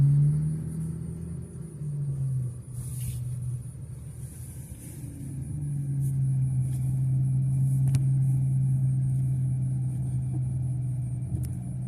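A car rolls through a fairground parking lot at the South Florida gun show in West Palm Beach, its engine a steady low rumble that swells nearer toward the end, with no talking.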